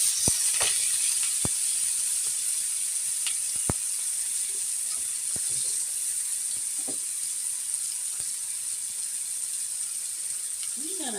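Mushrooms cook in a hot pan with a steady, bright sizzle that runs the whole time. Scattered sharp clicks and taps from the pan or utensils sound close by.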